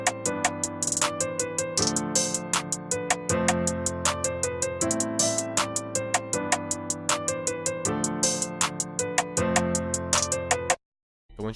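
An open hi-hat pattern over a full trap beat built in FL Studio: steady bright hat hits ride over booming bass and chords in a continuous loud loop that stops abruptly near the end.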